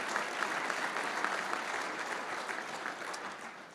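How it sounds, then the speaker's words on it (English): Sustained audience applause fills a room at a college football awards dinner, a dense steady patter of many hands clapping at moderate loudness with no voices over it. "So I'd like to give a round of applause for everybody."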